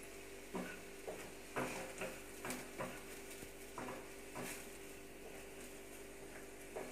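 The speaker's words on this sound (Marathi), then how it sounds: "खोबरंही परतून घ्यायचं आहे तांबूस रंगावर" Onion and coconut are sautéed in a pan for chole masala, with a spatula giving soft rhythmic scrapes and knocks against the metal over a faint, steady sizzle. The sound is quiet and there is no talk.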